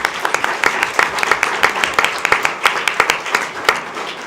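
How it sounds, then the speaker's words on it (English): An audience at a school board meeting gives a sustained round of applause, many hands clapping together with individual sharp claps popping out of the steady roar. "And let's give them one final round of applause."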